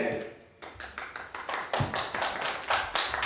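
Applause at a talent quest show welcomes a hip-hop and spoken word artist: a modest burst of close, distinct hand claps that builds steadily over a few seconds.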